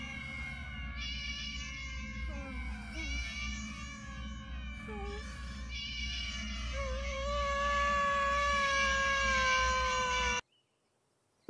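A cat meows repeatedly in The Good Life, a series of drawn-out, wavering mewls over a steady low hum of game music, growing louder toward the end before cutting to silence.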